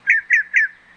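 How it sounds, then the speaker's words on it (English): A thrasher gives three evenly spaced, clear whistled calls, each sliding downward, moderately loud and nearby against a quiet background. "thrasher,"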